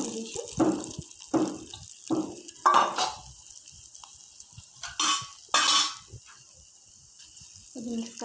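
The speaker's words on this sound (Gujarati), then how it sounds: "આપણે આ વઘાર આપણા જે ખીરું છે એમાં નાખી દઈશું।" Hot tempering is poured and stirred into a mixed-dal handvo batter, with wet scraping strokes in an uneven rhythm and short bursts of hissing and splashing, close up and moderately quiet.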